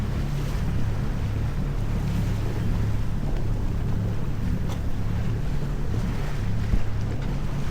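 Steady loud wind rushes past on the open English Channel at night, with a low rumbling sailboat hum and the faint irregular flutter of a flapping sail; no voices.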